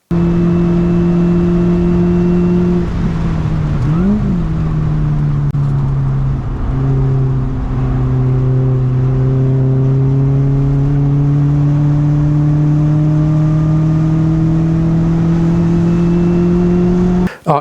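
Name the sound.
race car driving through turn 2 at Phillip Island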